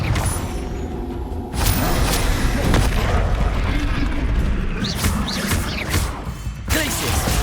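Confringo fire spell blasts in Hogwarts Legacy, heavy booming bursts and whooshes layered over continuous dense combat noise with rumbling impacts, loud and sustained throughout, with a voice calling out in between.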